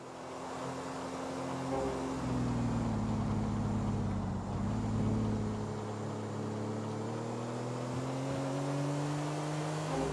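A supercar's engine droning in Grand Theft Auto IV on PS3, a steady rising and falling hum of revs that swells and holds for several seconds, loud and alone with no talking.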